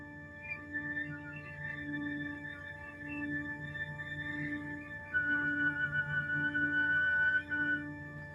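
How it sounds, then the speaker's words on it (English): Thin, high flute whistle tones sound softly and sustained, sliding between pitches and growing slightly louder partway through, with no talk. "I know a couple of flutists who use these whistle tones as a way to warm up backstage"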